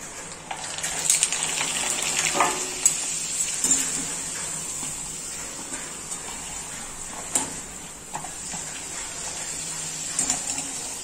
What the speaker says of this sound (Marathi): आता मी तुम्हाला तळून दाखवते। तेल ठेवलंय मी कढईमध्ये आणि ते चांगलं गरम झालं आहे।